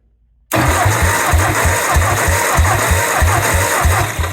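Ford 861 PowerMaster tractor engine cranking over on the starter, a steady rhythmic chug of repeated compression pulses starting abruptly after a short silence, loud and close with no talk.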